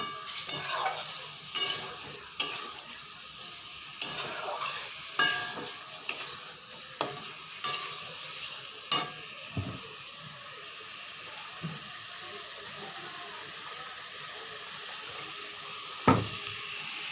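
Spice masala stir-fried in oil until the oil separates, with a soft continuous sizzle beneath repeated scraping strokes of a spoon against the pan, the clinks coming in an irregular rhythm and thinning out toward the end.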